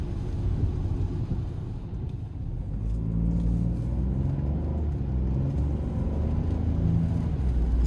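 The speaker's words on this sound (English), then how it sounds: "We're gonna try to give it a pull getting on the interstate here." A 2026 Ford Bronco Sport Big Bend in sport mode accelerating onto an interstate, heard from inside as a steady loud low engine rumble with a rising tone, continuous throughout, no talk.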